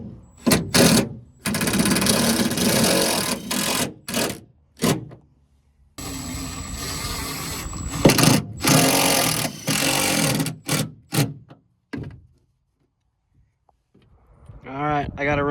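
A powered driver sets screws to fasten a boat console down onto a new plywood floor, heard as loud, close, whirring bursts of a few seconds each, separated by short pauses, with a quieter stretch and some faint rattling near the end.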